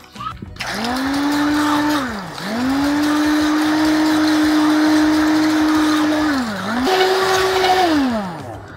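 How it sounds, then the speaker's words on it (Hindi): A hand blender mixing spiced buttermilk with chilled water whirs steadily at close range, its motor pitch dipping briefly twice before rising again and running on loudly. "मैं इसको हैंड ब्लेंडर से मिक्स करने वाला हूँ।"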